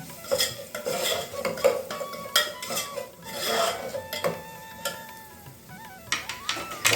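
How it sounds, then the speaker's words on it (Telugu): Maggi noodles with Maggi masala stirred in a pan for Schezwan-style Maggi, with close metal utensil clatter, scraping and short squeaks in an uneven rhythm and no speech. "మ్యాగీ మసాలా వేసిన కలుపుకుందాము."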